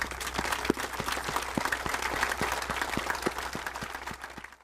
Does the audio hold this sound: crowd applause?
yes